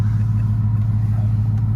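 A large car engine with a 10-speed automatic gearbox idles close by, giving a steady, deep, continuous rumble with no talking.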